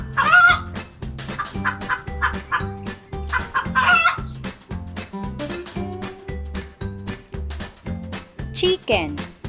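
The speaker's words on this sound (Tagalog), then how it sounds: "Chicken." A chicken clucks repeatedly and a rooster crows, loud and close, layered over rhythmic background music with brief high squawks near the end.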